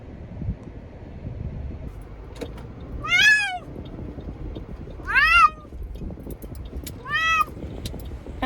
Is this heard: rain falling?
no